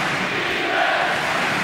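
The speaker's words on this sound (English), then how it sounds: "Defense is the cry from the crowd here in Munich." A basketball arena crowd in Munich at the 1993 EuroBasket final between Russia and Germany, chanting for defense, a loud, dense roar of many voices filling the hall.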